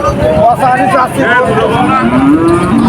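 A cow lets out long, loud moos over a busy background of crowd chatter and voices at the Chuknagar cattle market in Khulna, Bangladesh.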